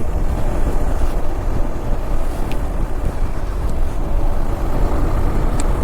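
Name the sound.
wind while riding a moving vehicle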